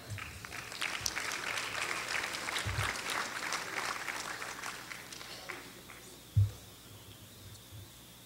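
Audience at a school board meeting applauds tenth graders, a steady moderate clapping from a room of people that slowly thins out, with a single loud thump near the end.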